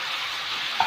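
Minced meat with two large finely chopped onions sizzling and frying steadily in a pan, a continuous close hiss with a brief stir near the end.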